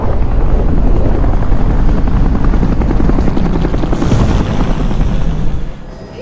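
Aircraft flying in a Bayonetta video game cutscene, a loud, steady rotor-like roar with dense low thrum that holds throughout and eases slightly near the end.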